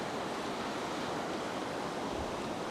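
Ocean surf breaks and washes steadily along a beach where someone is fishing for tailor, a continuous loud roar of waves filling the whole stretch with no talking.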